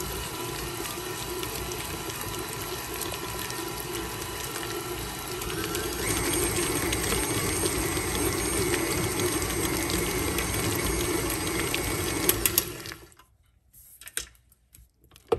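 A food processor whirs steadily as it blends softened cream cheese, olives, nuts and olive brine into a spread, a continuous motor drone that grows a bit louder midway before switching off, followed by a few clicks.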